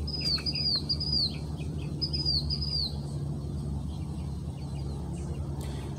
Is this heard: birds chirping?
yes